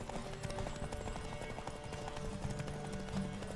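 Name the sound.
horse hooves galloping in The Witcher 3 video game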